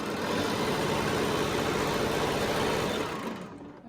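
A sewing machine stitches fabric for half-square triangle quilt blocks, running in one steady, continuous mechanical hum for about three seconds before tapering off.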